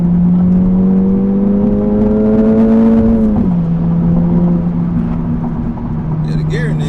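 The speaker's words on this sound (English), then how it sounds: "Now let me drop a gear and test this third gear." Acura Integra Type S engine pulling hard in third gear from inside the car, a loud rising drone that dips briefly at a shift and then carries on, with someone talking over it.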